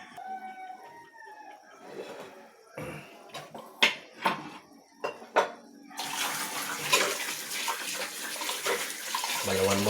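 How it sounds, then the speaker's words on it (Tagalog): Dishes being washed under a running tap, with water splashing and clattering in bursts before a steady loud flow of running water; a rooster crows in the background, and no one speaks. "Hugasan muna natin yung ating mga pinggan."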